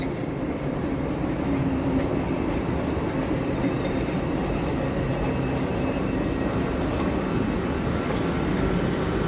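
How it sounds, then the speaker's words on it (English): A train runs past at Reading station on the Great Western Main Line with a steady, loud rumble and rail roar that stays even and close throughout, with no talk over it. "We've also got another train approaching as well, which is going to be a Crossrail service terminating in from London Paddington."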